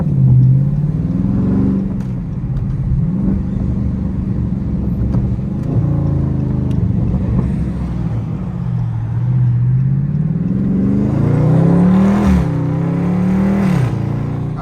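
A Dodge Scat Pack muscle car is driven on the road using its paddle shifters. The loud, close engine rumble rises and falls through repeated revs and gear changes.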